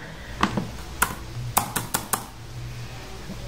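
Keys on a computer keyboard clack in a short, uneven burst of about eight crisp presses ending with the enter key, close and loud over a low room hum, with no talk.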